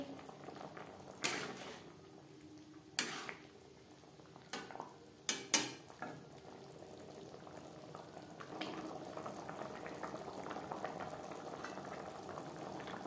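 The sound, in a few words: egg curry gravy boiling in a pan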